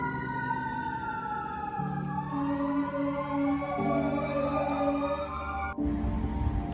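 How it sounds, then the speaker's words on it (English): An American fire engine siren wails close by in downtown Los Angeles, sweeping up and down in long rising and falling tones, with a low engine rumble beneath. "I really love that noise that fire engine makes"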